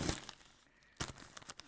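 Crinkling plastic wrapping on a small round Temu parcel being handled for unboxing, a few soft rustling bursts at the start and a sharper cluster near the end, close and fairly quiet.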